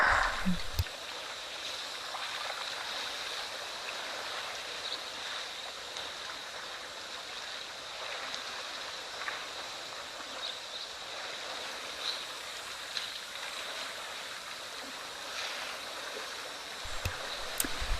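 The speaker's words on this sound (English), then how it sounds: "enjoying the sights and the sounds of the water" Steady broadband water flowing at a wildlife waterhole, a continuous soft wash with faint splashes and outdoor ambience, moderately distant and unbroken throughout.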